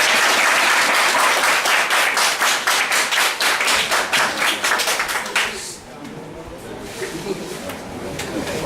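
Applause from a group of about sixty computer lab students for a classmate, dense clapping that fades after about five seconds into murmuring and a voice talking.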